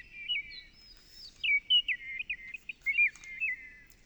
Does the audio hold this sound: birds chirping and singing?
yes